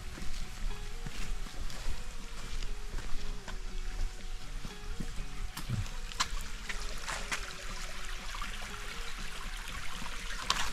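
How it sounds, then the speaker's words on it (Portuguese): A small creek flows steadily across a trail on the way to Cachoeira do Sossego near Lençóis in Bahia's Chapada Diamantina, giving an even, continuous rush and trickle of water close by. "atravessando esse riachinho aqui"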